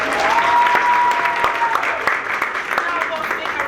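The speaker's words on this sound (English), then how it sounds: "Another round of applause for the performance." A crowd applauds after a performance at a Steinert High School BSU assembly, with steady, loud clapping and a few cheers and voices mixed into the sound.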